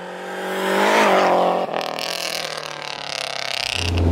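A Lancia Delta Integrale working through mountain hairpins, its engine rising in a loud rev, dropping briefly at a gear change, then pulling again with a raspy, burbling note close by.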